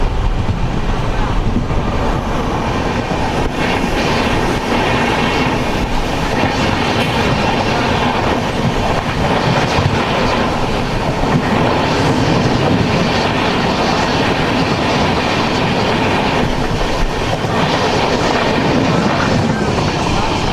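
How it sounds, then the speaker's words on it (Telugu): An Amritsar express train rolls steadily along the rails on a foggy route, its loud, continuous wheel rumble and clickety-clack filling the whole stretch up close, with no voices over it. "ఎక్స్ప్రెస్ ట్రైన్ ఇది."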